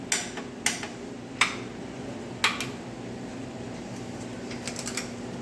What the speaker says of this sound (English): Last thing we'll do is torque these 2 little bolts to 60 foot-pounds.